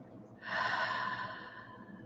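During a guided mindfulness breathing exercise, a single slow, deep breath is released in a soft, airy exhale that swells quickly and then gently fades over about a second and a half.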